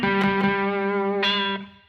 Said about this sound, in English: so we're going to come in this little first position minor pentatonic phrase